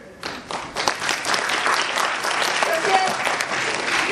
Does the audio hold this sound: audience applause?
yes